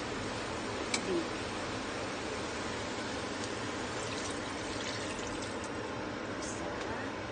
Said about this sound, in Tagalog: So, lagyan na natin siya ng tubig.